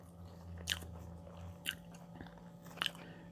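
Three crisp bites into floured white bread from a bakery, close and quiet, each a sharp crunchy tear followed by soft chewing in the pauses between.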